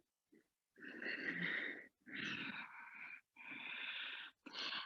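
Breath is pushed out during a yoga locust pose, four long, rough, wheezy breath sounds close to the microphone, separated by short silences.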